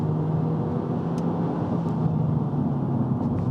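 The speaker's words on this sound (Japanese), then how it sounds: "ちょっと加速をしてみましょう。" Steady engine hum and road rumble inside a car with sliding doors as it accelerates on the road, a continuous moderately loud drone without talk.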